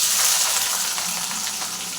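Chopped onions sizzling in hot oil with cumin seeds and curry leaves for an eggplant tomato curry, a steady loud close crackle with faint stirring underneath.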